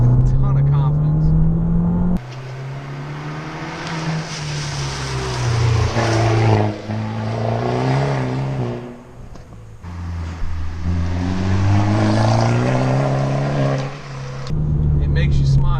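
A Fiat 500 Abarth accelerates through the gears, its engine note climbing in pitch, dropping at each shift and climbing again, loud and close with a driver talking over it.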